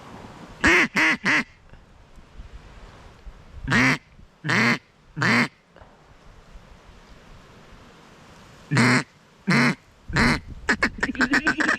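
Ducks quack loudly and close by on public hunting land, in clusters of three or so sharp calls separated by pauses, ending in a rapid run of quacks.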